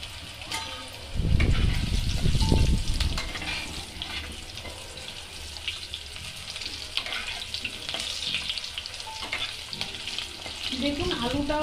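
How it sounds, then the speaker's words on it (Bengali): Potato pieces dropped into hot oil tempered with black cumin seeds, a loud burst of sizzling at first that settles into a steady, softer frying hiss with occasional spatters. "আলু ভাজতে দিয়ে দিলাম"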